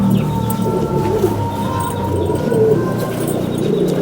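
Pigeons coo steadily in a loft, low murmuring calls overlapping at close range with no one speaking.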